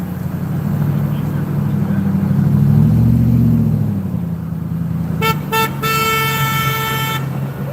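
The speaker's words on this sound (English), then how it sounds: "Some people still honking." Car horns honking from passing traffic at an ICE protest outside Austin City Hall: a series of short and longer beeps near the end over a continuous traffic rumble, with crowd noise and voices throughout.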